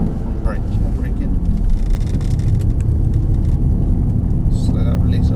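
A Mercedes-AMG SL63 accelerates on a race track with a loud, low engine roar, while a voice talks over it.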